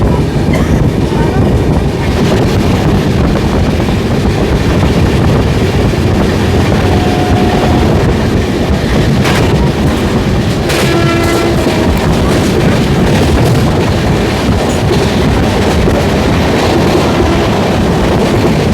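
A superfast train runs out of Bandel, heard from inside a general carriage as a loud, steady rumble and rush with rattling and clacking, plus a few brief squeals and tones.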